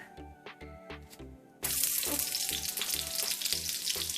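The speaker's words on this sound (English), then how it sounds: "Okay, my pan is hot. I'm gonna put a little bit of oil and a little bit of butter." Oil and butter hitting a hot pan, a sudden loud sizzle that bursts in after a short quiet stretch and then holds steady, with a faint rhythmic thump beneath it.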